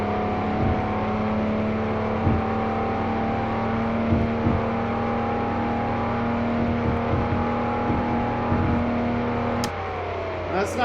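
A 2020 Toyota Supra in a racing video game pulls hard through its gears, a steady loud engine drone with tonal harmonics and brief shift dips, continuous for about eleven seconds.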